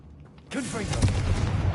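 Confringo blast spell cast in Hogwarts Legacy bursts in abruptly after a quiet half second, then carries on as a loud, sustained crackling roar with a voice-like tone riding over it.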